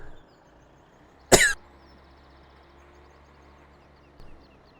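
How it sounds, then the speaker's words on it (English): A single sharp, loud cough bursts out near the start, and a fainter throat sound follows a few seconds later over a quiet, steady background with no speech. "I've been fighting coughs all day."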